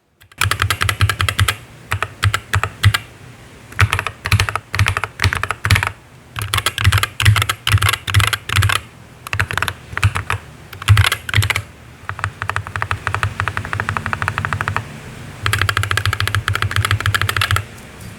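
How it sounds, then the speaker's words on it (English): Typing on a mechanical keyboard with lubed and unlubed switches, bursts of rapid, close, deep clacking keystrokes separated by short pauses, alternating in blocks for comparison. "here's another comparison between the lubed and unlubed switches"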